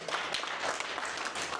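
An audience claps for a young boy named Shivam at a radio program event in Rishikesh, steady dense applause heard at a moderate distance, with no talk over it.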